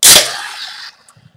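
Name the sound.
opening a bottle of Samuel Adams Nitro White Ale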